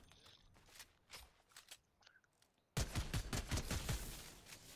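Gunfire from an opposing team in an online shooter game: scattered distant shots at first, then a loud, dense burst of rapid automatic fire, close and continuous to the end.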